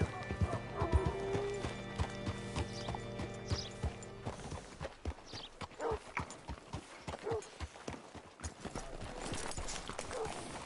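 Horse hooves clip-clop steadily in Red Dead Redemption 2, a string of close rhythmic knocks, with an engine-like drone at first and a brief whinny.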